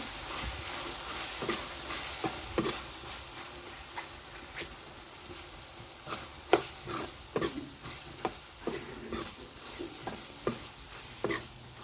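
Spices fry in a pan: red chilli powder, black chilli powder and a little turmeric, cooked as the base for a moong dal preparation. A soft, continuous sizzle runs under repeated sharp scrapes and clicks from a stirring spoon.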